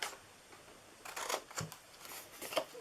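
Scissors snip through paper while a small bakery box for mini pies is being cut out, giving a few close, crisp cutting crunches in short bursts separated by quiet pauses.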